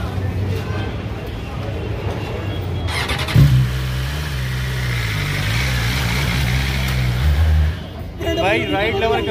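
A car doing a burnout at a gathering of riders, its engine revving hard and holding a steady loud roar for several seconds before cutting off, with voices and crowd noise around it.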